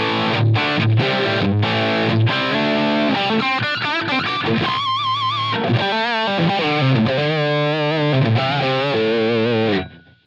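Electric guitar played through a Line 6 Helix Brit 2204 amp model, a Marshall JCM800-style distortion, rings out in a loud sustained stretch of chords and sliding, vibrato-laden lead notes before cutting off abruptly.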